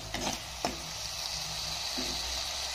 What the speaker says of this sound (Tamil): இந்த தக்காளி பேஸ்ட் போட்டு ஒரு மீடியம் ஃப்ளேமில் ஒரு 3 நிமிஷம் அப்படியே வதங்கட்டும்,